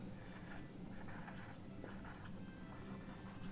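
Chalk or marker writing on a board during a physics lecture on vectors, a steady scratchy rubbing of strokes that runs through the whole moment, close and clear, with no speech over it.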